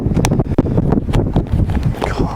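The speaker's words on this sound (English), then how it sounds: "I don't know if you can hear that wind as bad" Gusty wind at a Norfolk carp fishing lake buffets the microphone with loud, continuous low rumbling and blustery noise throughout.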